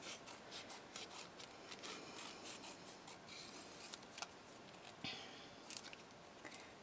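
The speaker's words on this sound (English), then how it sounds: "I'm going to trim this a little bit so it's straighter." Scissors trimming sticky shipping labels, a faint series of quick snips and paper rustles close by in a quiet room.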